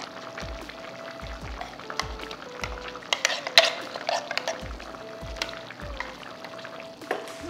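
Spice paste sloshes and pours into a simmering pot of sambar, with repeated low thumps and clinks of a utensil stirring against the pan.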